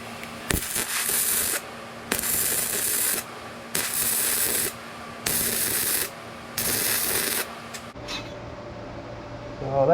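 Simder SD-4050PRO welder working on metal, a loud crackling hiss in five regular bursts of about a second each, with short pauses between, before a quieter stretch near the end.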